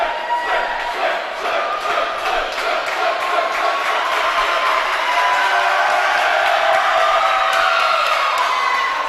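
A crowd at a girls' varsity swimming and diving meet against New Canaan at the Darien YMCA pool keeps up a steady cheering roar with whoops, echoing in the indoor space, while a voice talks over it.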